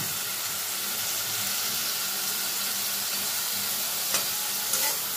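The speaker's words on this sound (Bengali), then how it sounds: "খুব ভালো করে পেঁয়াজ আর রসুনটাকে ভেজে নেব যতক্ষণ না এই কাঁচা গন্ধটা চলে যায়" Ground onion and garlic paste fries in hot oil with salt and turmeric, a loud, dense, continuous sizzle close by with a couple of brief stirring scrapes toward the end.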